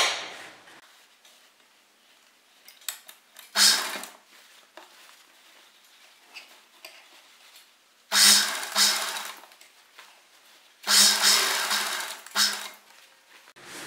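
A sewing machine stitching a collar onto canvas cloth runs in three short bursts of whirring, the loudest near the end, separated by quiet pauses with faint handling clicks.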